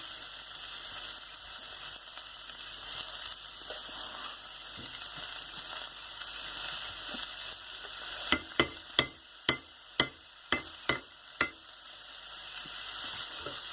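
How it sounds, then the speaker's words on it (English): Onions fry in a pan over a medium flame with butter nearby, giving a steady, close sizzle throughout, and around the eighth second a quick run of sharp clicks from stirring cuts through it. "Next, onions. Now let these cook."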